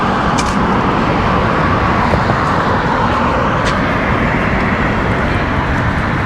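Steady road traffic outside a bus station in Spain or Gibraltar, a loud continuous roar of cars and vehicles passing nearby, with no speech.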